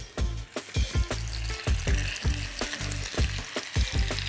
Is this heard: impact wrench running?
no